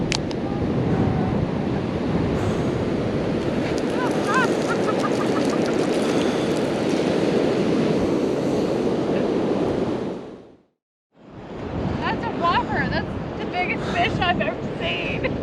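Rising ocean surf breaking on a beach during a fishing outing, a steady broadband wash of waves with wind buffeting the microphone, continuous and loud, briefly cutting out near the end before resuming.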